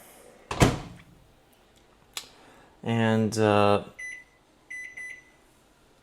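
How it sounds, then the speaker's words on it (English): A microwave oven door shuts with a sharp clack in a home kitchen, followed by a short hum and a few electronic beeps, with brief speech near the start. "And we'll just pop this bad boy in the microwave"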